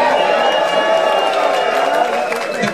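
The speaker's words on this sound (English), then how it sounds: "If you agree with that, give us a cheer." A crowd at the 2013 Cannabis Cup award show at the Melkweg in Amsterdam cheers and whoops loudly in one sustained burst that fades slightly toward the end.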